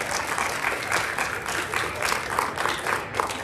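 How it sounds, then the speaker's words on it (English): A middle school awards ceremony audience gives a steady round of applause, dense overlapping hand claps held at an even, moderate level for a few seconds without pause. "Give yourselves a nice round of applause."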